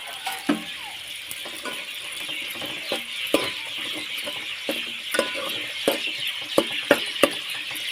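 A spatula stirs and turns cooked okra with chopped coriander in a pan, producing repeated scraping clicks and taps over a soft, steady sizzle, with no talking.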